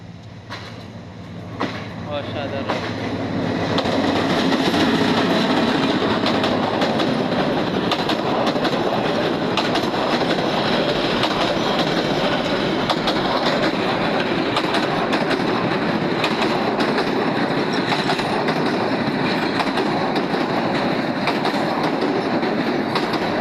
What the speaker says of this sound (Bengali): এই যে ট্রেন চলে যাইতেছে।